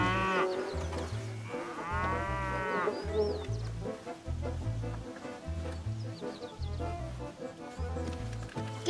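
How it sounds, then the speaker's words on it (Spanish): Cattle moo loudly and repeatedly, with long drawn-out calls from several cows close by, set over a busy farm backdrop of music and movement and no clear speech. "Están curando a las vacas."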